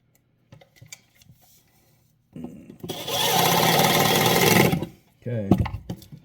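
A power drill drives screws into a cabinet gas strut mount, a few light taps first, then a loud sustained whirring burst of about two seconds, followed by someone speaking.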